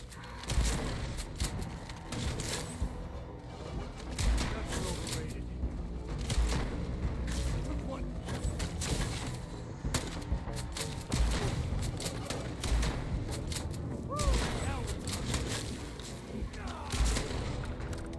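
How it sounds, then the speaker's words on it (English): Rapid shotgun blasts and gunfire in the video game Starfield, a dense run of sharp, loud shots and booms over nearly twenty seconds with a player talking intermittently. "Might as well use the shotgun on them."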